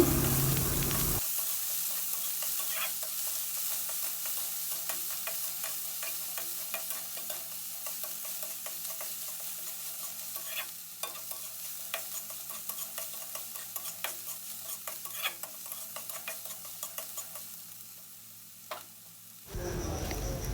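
Chopped onion sizzles in hot oil with ginger-garlic paste and green chili, a steady close hiss broken by frequent spatula scrapes and ticks against the pan.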